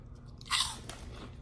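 One crisp crunch as teeth break into an airy, slightly spicy Korean four-layer chip, a short close bite followed by faint chewing, with no one speaking.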